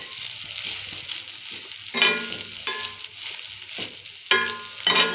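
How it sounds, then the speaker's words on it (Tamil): Banana stem fried rice being stirred in a hot pan, with a steady sizzle of frying and irregular scraping strokes of the spatula, louder bursts recurring every second or so. "இப்போ வந்து ரைஸ்க்கான உப்பு போட்டுட்டு நல்லா கிளறிடுங்க"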